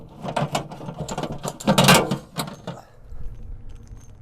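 A drain hose being connected to a camper sink drain, a run of close, dry plastic clicks and ratcheting snaps, then quieter fiddling sounds.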